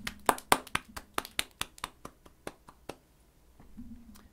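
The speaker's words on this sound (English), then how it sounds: "Dr. Nakabachi enters to sparse applause" Sparse applause from a small audience in the Steins;Gate visual novel: about a dozen separate, fairly close hand claps in an uneven rhythm that thins out and stops, with no talking.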